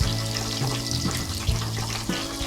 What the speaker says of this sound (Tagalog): ilagay na po natin para po maluto na ang ating onion ring